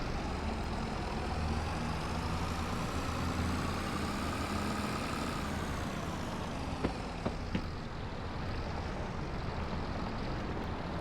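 A tractor engine in Farming Simulator 22 drones steadily at a low idle, a continuous heavy rumble with a few faint clicks partway through and no talking.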